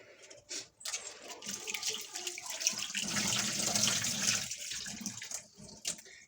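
Water pours steadily into flour for bajji batter, close by for several seconds, a continuous rushing splash with a brief pause near the start.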